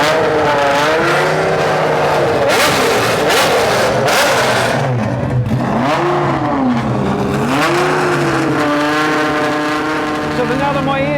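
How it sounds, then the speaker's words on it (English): A Lamborghini Diablo GT race car engine revs loudly and close by in a pit garage at a supercar show at Silverstone, the pitch rising and falling in long sweeps while people talk over it. "So now that my ears are completely broken from this Diablo"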